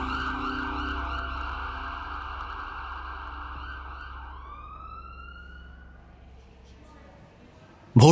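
An ambulance siren wails in long sustained tones that slide downward and fade as the vehicle passes, ending in a short loud burst.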